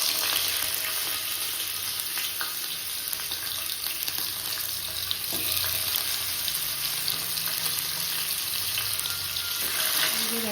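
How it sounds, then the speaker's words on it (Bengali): Turmeric-salted fish fries in oil in a kadai, a continuous crackling sizzle at moderate loudness with occasional stirring clatter, faint background noises and brief murmurs of voices. "এবার ভেজে নেব।"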